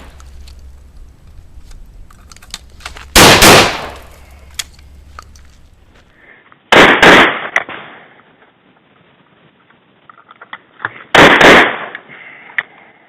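A Stoeger 12 gauge semi-automatic shotgun in rough, unworked condition fires three loud, sharp blasts several seconds apart outdoors, each followed by a short echo, with quieter handling noises in between.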